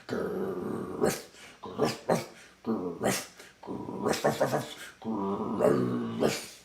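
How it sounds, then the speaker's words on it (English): A dog growls and gives low woofs in several bursts, close and fairly loud, with brief pauses between them. "So there's your growls, there's your woofs"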